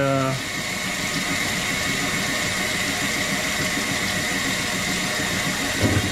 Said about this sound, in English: So the machine is determined it needs another rinse.